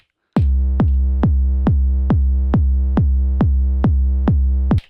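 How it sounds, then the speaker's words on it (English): Four-on-the-floor kick drum sample played from an Octatrack, eleven deep, punchy thumps at a steady even pulse, loud and close with no other sounds. "4x4 kick, and it sounds like this."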